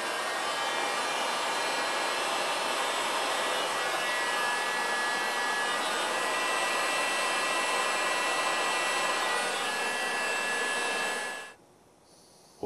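A hot air blower aimed at a metal clipper blade gives a loud, steady rushing whir for about eleven seconds, then cuts off abruptly into near silence.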